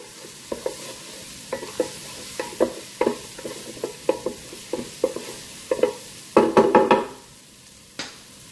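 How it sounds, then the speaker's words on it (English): Green onion whites and serrano chili being stirred for shrimp drunken noodles in a Ninja Speedi: a steady run of scraping utensil strokes, roughly one per half second, over a light sizzle, with a busier flurry of clatter near the end. "and the whites of the green onion. I'm going to stir that all around."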